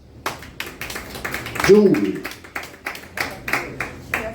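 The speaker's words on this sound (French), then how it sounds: "une bonne main d'applaudissement" A cabaret audience claps in a steady patter of hand claps, fairly close and moderately loud, while a voice speaks briefly over the applause.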